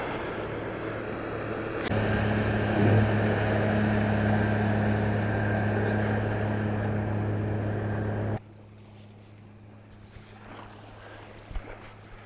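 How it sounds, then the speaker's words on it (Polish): A motorboat on a river gives off a loud, steady droning hum with a strong low tone that cuts out abruptly, leaving quieter outdoor background with a few faint knocks. "Aż falę narobiła ta motorówka."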